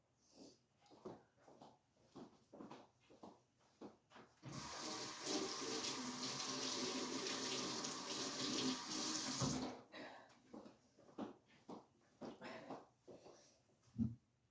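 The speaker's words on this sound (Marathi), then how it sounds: "आता जरा हात धुवून येते" A kitchen tap runs steadily for about five seconds while hands are washed, a close, broad rush of water. Quieter clatter and movement come before and after it, and one sharp knock sounds near the end.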